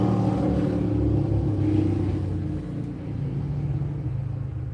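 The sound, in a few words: motorcycle passing by outside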